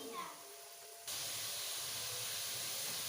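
Tomato masala roasting in a pan gives a soft sizzle and hiss that suddenly grows louder and stays steady, heard close up and fairly quiet.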